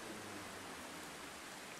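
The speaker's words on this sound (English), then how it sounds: "And it's raining." Steady rain falls in the train-travel video game The Final Station, a soft, even hiss that fills the short stretch with no voices over it.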